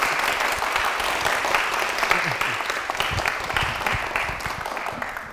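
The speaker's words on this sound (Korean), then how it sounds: "우리 아내 모신 하미자 집사님을 박수로 모시겠습니다" Warm applause from a church congregation welcomes a deaconess, steady clapping throughout with faint voices mixed beneath it.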